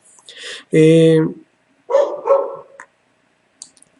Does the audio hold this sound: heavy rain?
no